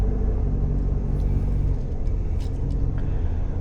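A Mitsubishi Delica D:5 with a turbo engine drives in second gear, giving a steady loud low rumble with road noise from inside the cabin and faint higher hiss above it.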